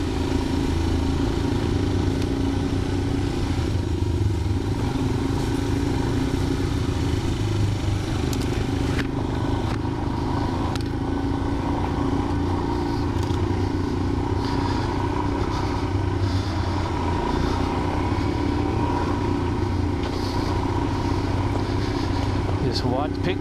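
An off-road motorcycle engine drones loud and steady while riding on a dirt track, with rumble and clatter throughout as a rider talks over it.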